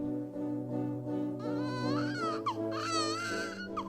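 A newborn baby cries in wavering, rising wails over a steady musical background, the cry swelling in the second half and continuing to the end.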